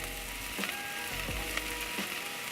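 Garlic sizzles in a pan of sweated onions for a marinara sauce, a steady close frying hiss with a few soft clicks of a utensil against the pan and no voices.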